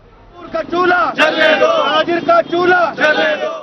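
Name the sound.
protesters chanting slogans against WAPDA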